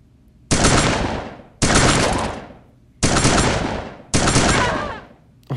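Loud sniper shots from the zombie video game Dead Ahead: Zombie Warfare, four heavy booming blasts about a second apart, each with a long rumbling decay, plus the start of a fifth at the end.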